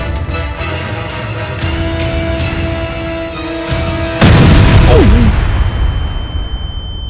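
A sudden loud boom from an explosion at a house, followed by a dense roaring, crackling burst that slowly fades, while background music or drone continues beneath.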